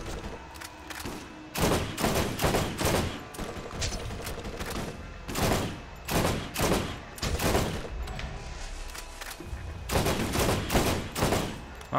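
Bursts of shotgun and other gunfire in Borderlands ring out loud and close, firing in rapid clusters with short pauses between volleys and no talking over them.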